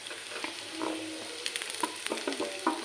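Three boiled, hand-mashed potatoes frying with softened onion in a pan for yellow potato bhaji, a brief close sizzle broken by several sharp spoon scrapes and stirs, with no voices.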